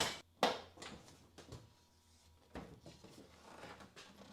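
The door of a Porsche 911 body is opened in a garage during a chassis swap onto a Miata, giving a few scattered, fairly quiet clunks and thuds with short pauses between them.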